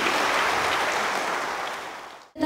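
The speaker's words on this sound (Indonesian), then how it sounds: "Tepuk tangan luar biasa sekali." Audience applause at a 2018 health talk show in Jambi, a dense clapping wash that gradually fades before cutting off abruptly.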